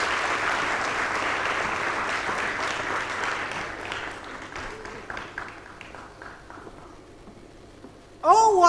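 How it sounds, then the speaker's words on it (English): An audience at a Ms President pageant finale applauds a former titleholder from Homa Bay County. Full, crowded clapping thins out and fades over about seven seconds before a loud amplified voice cuts in. "Kindly clap for her"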